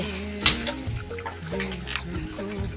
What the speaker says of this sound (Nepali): यतिको पानी आउँछ